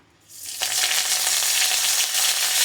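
Curry leaves and dried chilli hit hot oil with a sudden burst, then crackle and sizzle loudly and steadily, close up, with no talk, while plantain poriyal is being made.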